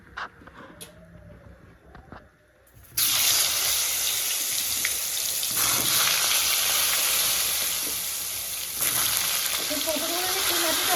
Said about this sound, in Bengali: পরিমাণ মতো হলুদ গুঁড়ো দিয়ে দেবো পটলগুলো ভেজে নেবো